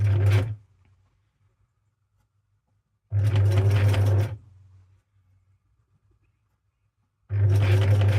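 A sewing machine stitches Christmas tree fabric ruffles in three loud, close bursts of humming motor and rapid needle clatter, each lasting about a second or so, separated by near silence.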